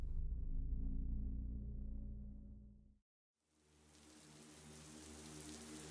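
Steady soft rain patters on a surface, broken by a brief moment of silence before the pattering resumes with a brighter hiss.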